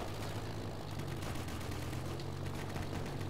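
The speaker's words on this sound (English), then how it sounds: "looks like that might have been anti-air cannon in the middle of town there" Anti-air cannon fire in the Easy Red 2 war game, heard as a dense, continuous rumble of rapid distant bursts over a town that never lets up across the whole stretch.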